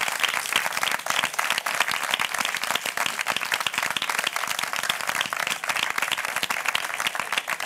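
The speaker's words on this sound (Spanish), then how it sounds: "Yo pido un aplauso para, para José Morenito, Morenito Hijo." An audience gives sustained, dense applause for a flamenco singer, loud and continuous clapping from a crowd with no talking.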